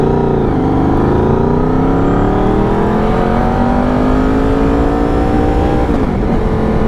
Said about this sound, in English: I always seem to get stuck behind the trash trucks on a hill.